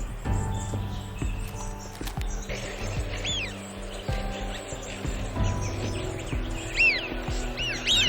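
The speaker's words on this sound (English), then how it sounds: "While there is water in plenty, the birds continue to come." Birds of a migrating flock call at a lake, their short chirps and rising whistles repeating in bursts above a steady low rumble, moderately near and without talk.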